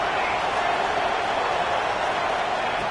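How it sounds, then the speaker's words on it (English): Roaring stadium crowd in the NCAA 26 college football video game, a steady, dense wash of cheering and noise that holds level throughout with no breaks, with commentary voices blended in underneath. "And here comes the noise. This crowd is trying to inspire this defense to make a big red zone stop."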